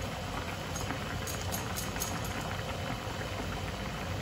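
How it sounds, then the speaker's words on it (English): Pasta boiling in a pot of water on the stove for a chicken carbonara, a steady close bubbling roil that runs evenly throughout with no voices. "we're gonna boil that in 8 minutes"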